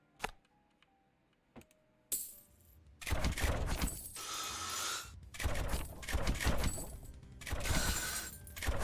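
Mortar towers fire and explode in the tower defense game Rogue Tower, with a few faint clicks first, then dense, loud bursts of booming impacts and crackling in overlapping waves.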